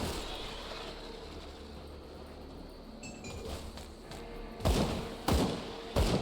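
A rifle fires slowly in Grim Dawn, with three sharp, well-spaced shots near the end over a muddy background of game ambience and clinks.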